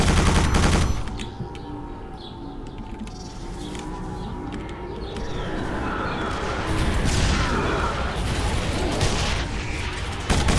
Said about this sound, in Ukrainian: Харе по мені стріляти.